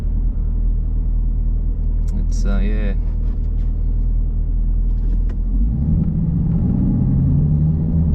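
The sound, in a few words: 2020 Chevrolet Camaro ZL1 engine rumble while driving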